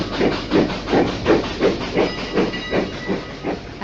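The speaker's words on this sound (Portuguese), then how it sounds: "Esse som que você está ouvindo é uma gravação original de uma Maria Fumaça chegando numa fábrica bem importante." A 1976 recording of a steam locomotive arriving at a cement factory in Perus, São Paulo: loud, rhythmic chuffs of steam in a steady beat, about three per second, with a faint whistle tone.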